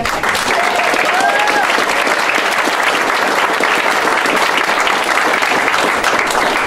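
A large crowd at a real estate awards gathering bursts into loud, sustained applause, dense clapping filling the whole stretch without a break and no talk over it.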